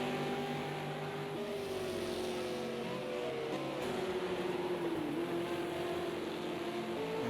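A V8 Supercar engine in a racing video game at the Hockenheim Classic circuit drones continuously at racing speed, a steady, quiet whine that shifts slightly in pitch, with no voices.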